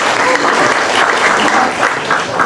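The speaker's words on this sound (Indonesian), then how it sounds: "Boleh beri tepuk tangan." Steady, dense audience applause at a university gathering in Sukabumi, a large crowd clapping continuously at close range throughout, with a faint murmur of voices beneath.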